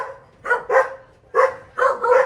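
Several dogs barking close by in five sharp, loud barks, grouped in pairs and singles with short gaps between them over a quiet background.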